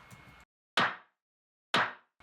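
Two sharp, isolated clap hits from a lo-fi house drum loop, each with a short bright decay and silence between them, after a brief quieter snippet of the loop.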